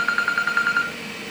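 A telephone rings with a quick run of short electronic trills at an even pulse, lasting under a second, then cutting off and leaving faint room hum in a space with a running Dremel 3D45 3D printer.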